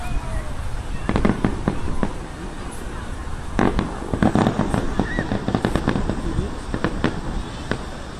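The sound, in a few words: fireworks salute bursting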